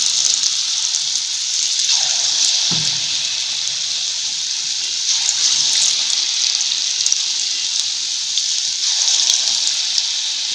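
Gulgule batter frying in hot oil over a low flame, a loud, steady sizzle with bubbling crackle running throughout, close by and alone.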